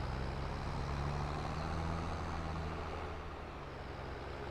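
Truck-like vehicle engine in Farming Simulator 22, a low steady rumbling drone with faint tonal hum, quiet and distant in the background, fading slightly toward the end.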